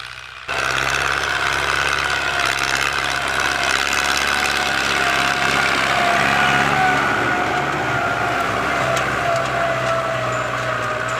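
A heavy Ford tractor engine rumbles to life and idles steadily and loudly, with a constant low drone that holds without pause.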